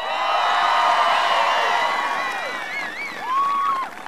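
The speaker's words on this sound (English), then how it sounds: "Can everybody please give Lily a big round of applause for the great introduction?" Supporters at a presidential rally in Denver erupt in a roaring crowd din with high shouts and whoops rising over it, loud and sustained, with cheering rather than distinct clapping dominating.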